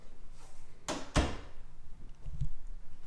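Coat closet door in a new single-story home opened at close range: two sharp clunks in quick succession, then a soft thud, in a quiet room.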